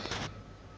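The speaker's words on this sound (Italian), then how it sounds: "Scusatemi per la tosse" A young person coughs beside a PlayStation 4, with a short rough burst, a quiet pause, then a sharp second cough at the end, close to the microphone.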